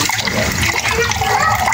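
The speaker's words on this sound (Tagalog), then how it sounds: "So, lagyan na natin ng tubig." Water gushes steadily into a cooking pot in a home kitchen, a loud continuous splashing pour with no break and no talk.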